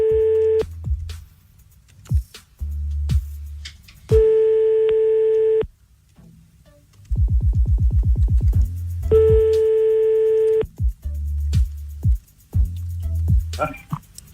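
A redialed telephone call producing repeated busy-signal tone bursts, with a rapid burst of dialing pulses in the middle. Low voices murmur in the gaps between tones.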